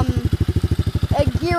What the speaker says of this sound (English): my chain's kind of rattling, so you guys can hear that